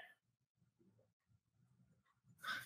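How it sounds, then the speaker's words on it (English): A dog whimpers and whines softly indoors in short uneven bursts, faint and close, ending with a sharper louder yelp or bark. "That dog really wants to tell you something."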